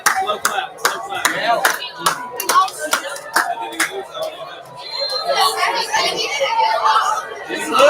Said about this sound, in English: Slow clap, slow clap,